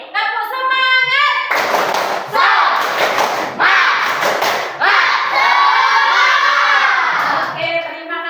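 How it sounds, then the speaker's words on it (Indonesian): A school class performs a rhythmic group spirit clap, loud bursts of many hands clapping in patterned sets, mixed with children's chanting and shouting voices close by. "Nah, yuk ulang lagi. Tepuk semangat."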